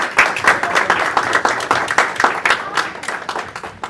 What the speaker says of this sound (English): Please give a big round of applause for Ekam Singh.